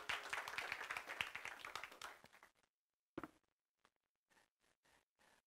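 Audience clapping rings out dense and loud at first, then thins and fades within a couple of seconds, leaving a few scattered, faint claps against near silence.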